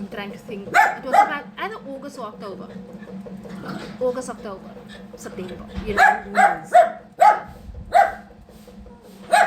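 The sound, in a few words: dog barking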